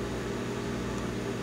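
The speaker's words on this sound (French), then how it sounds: "il chauffe dans le micro-ondes" A microwave oven runs while heating marshmallows, giving a steady low electrical hum with a fan-like whir, fairly faint and with no talking.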